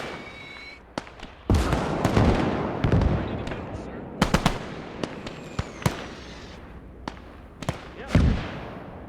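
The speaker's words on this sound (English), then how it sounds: "Wow, they're actually firing that 105 still" Battle in a WWII video game with a 105mm artillery gun firing amid heavy gunfire, sharp booms and cracks scattered irregularly over rumbling combat noise, some near and loud, with voices in the mix.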